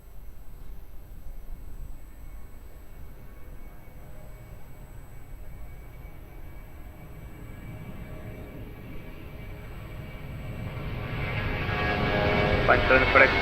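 An airliner takes off from runway 02 at Lisbon Airport, its engine roar building steadily from a low rumble to a louder, brighter thrust toward the end, with radio chatter faintly present.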